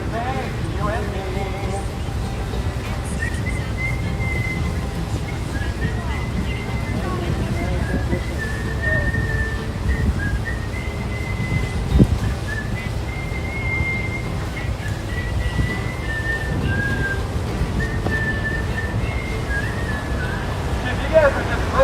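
Shrill, sustained whistling rises and falls for over twenty seconds at an anti-ICE protest outside the Delaney Hall detention facility in Newark, mixed with crowd voices, wind buffeting and outdoor rumble.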